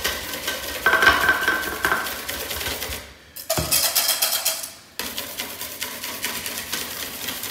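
Milk is worked into a flour roux in a pot on the stove: close, busy scraping and clattering of a utensil against the pot, pausing briefly before resuming.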